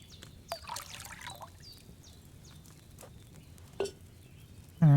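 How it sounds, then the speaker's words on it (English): In the video game Kingdom Come: Deliverance II, wine pours into a cauldron in brief trickling splashes, with a few sharper drips and clinks scattered across a quiet background. "Select the right base and press E to pour in the cauldron"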